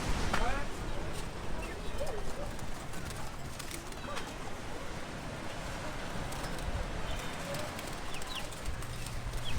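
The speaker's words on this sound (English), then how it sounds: "Look at the little birdies over here." Small birds call near a seawall by the sea in an old colonial Dutch port town on Lombok, with faint chirps and coos scattered over constant roaring wind and surf, and some distant voices.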